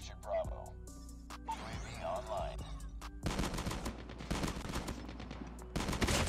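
Shotgun blasts in the Call of Duty Mobile video game ring out in a sharp run of repeated gunfire, with someone talking over and between the shots.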